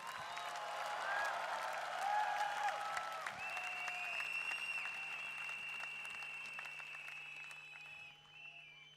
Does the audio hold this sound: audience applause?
yes